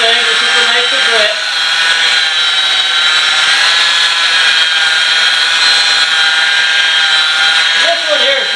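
Sanding a 2003 Mitsubishi Eclipse headlamp lens with finer-grit paper, probably with a power sander, makes a steady, loud, close whirring hiss with brief speech at the start and end.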